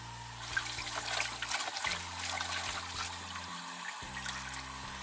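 Water trickles and drips from freshly washed godeulppaegi greens being squeezed by hand, close and uneven splashes over a low, steady background hum.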